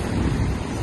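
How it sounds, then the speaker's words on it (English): Rough sea surging on a hot, stormy day in St Kitts, a dense low roar of waves mixed with wind buffeting the microphone, brief and continuous. "the sea is so rough"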